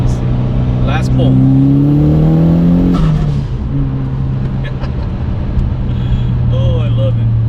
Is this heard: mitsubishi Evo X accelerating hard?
yes